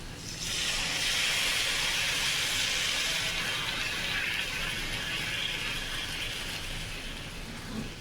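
Cashew and poppy seed paste hits a hot pan with a sudden loud sizzling hiss that holds steady and eases slightly toward the end, with no voices.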